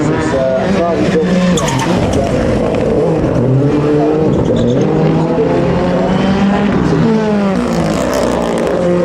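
A rally car built on a flipped-on body shell with Mitsubishi Evo running gear drives hard, its engine loud and continuous with shifting pitch and tyre noise throughout, close by with no break.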